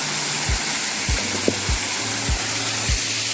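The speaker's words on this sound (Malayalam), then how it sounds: "മുകളിൽ നിന്ന് അകത്തോടെ വെള്ളം ഇറങ്ങിയിട്ട് വരുന്ന വെള്ളമാണ് ഇതൊക്കെ." Water at Anara waterfall in Ulikkal rushes down in a loud, steady broadband roar, with a few low thumps breaking through the continuous wash.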